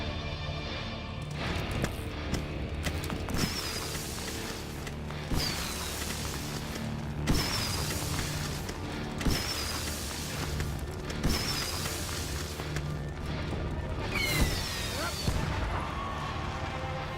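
Fireworks pop and crackle in a busy For Honor battle, several sharp bursts at roughly two-second intervals rising over a dense din of combat and crowd noise, with talk running underneath.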